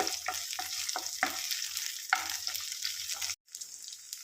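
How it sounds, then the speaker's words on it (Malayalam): Onions and fenugreek seeds frying in a pan, a steady close sizzle broken by a few stirring scrapes, with a brief gap near the end before the sizzling resumes. "ഉലുവയും കൂടെ നല്ലപോലെ ഒന്ന് മൂപ്പിച്ചെടുക്കാം."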